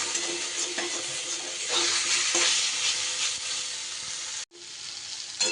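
Brinjal and pumpkin pieces fry in very little oil in a covered pan over low gas, giving a continuous dense sizzle close up, broken by a brief silence near the end before the sizzle resumes.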